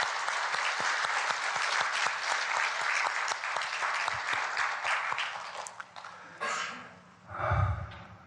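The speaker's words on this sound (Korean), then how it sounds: "우리 하나님 앞에 한번 뜨겁게 감사의 박수를 올려드리십시오." A church congregation at a Thanksgiving service applauds warmly, sustained clapping that tapers off toward the end, followed by a close breath into the microphone.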